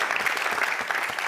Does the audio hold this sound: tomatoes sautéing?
no